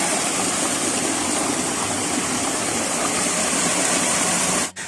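Water pours into a pipe in a loud, continuous rushing gush that stays steady for several seconds and then cuts out abruptly near the end, with no talking.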